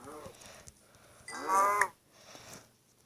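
A cow moos in a video game, a single rising, fairly loud call in the middle of faint background sounds and soft game noise.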